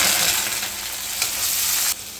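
A loud, dense sizzle of flat beans and onion frying in hot oil with mustard and cumin seeds fills the pan, steady and close, dropping off abruptly near the end.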